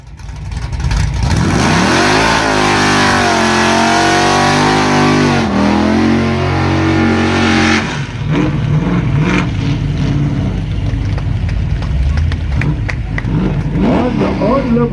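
Dodge D150 stepside pickup with a 440 cubic-inch V8 revving hard and launching down a drag strip, a loud, continuous roar climbing through the gears, with a brief pause near halfway before the engine note pulls on under crowd noise.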